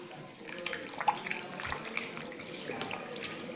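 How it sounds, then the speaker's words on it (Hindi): Tap water running steadily while hands are washed at a sink, a soft continuous splashing hiss with faint drips, moderately close and fairly quiet. "अब अच्छे से रब करके हाथ धोइए।"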